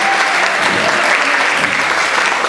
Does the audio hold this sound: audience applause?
yes